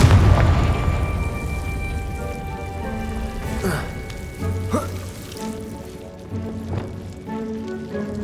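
The Confringo fire-blast spell explodes in Hogwarts Legacy, a loud opening boom that fades into crackling, sizzling debris with a few further muffled bursts.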